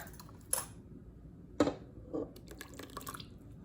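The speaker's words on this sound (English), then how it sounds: "Now I'm gonna add the buttermilk." Buttermilk poured into cupcake batter for ensaymada cupcakes lands as a few soft, wet plops and drips, three distinct splashes spaced about a second apart, close and quiet with no talking.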